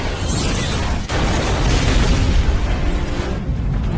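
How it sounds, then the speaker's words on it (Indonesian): A villa blowing up after its gas line is tampered with, heard as a sustained loud roar of explosion and rumbling debris with a sharp break near the second mark, followed by continued heavy burning and crashing. "Dan dalam beberapa saat villa itu pun meledak"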